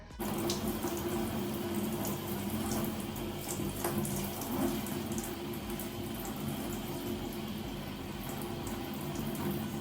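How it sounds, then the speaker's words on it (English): A tap runs steadily into a bathroom sink while hair is washed in it, a constant close rush of water lasting the whole clip with no talking. "Here I am about to wash my hair in my sink right here."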